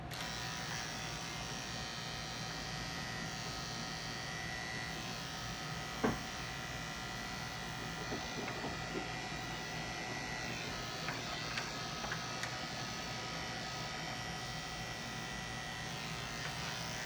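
An electric clipper buzzes steadily and close while grooming a dog, a continuous hum with occasional small clicks as it moves through the coat.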